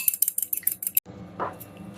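Rapid rhythmic clinking of a fork whisking an egg yolk with a teaspoon of water in a bowl for about a second, then it stops, followed by a soft scrape.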